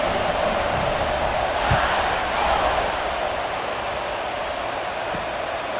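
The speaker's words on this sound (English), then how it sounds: "They're set to kick it off, and this crowd now ready to get behind them." Steady roar of a football stadium crowd just before kickoff on a wet field, a dense, continuous wash of massed voices with no clear individual speech standing out.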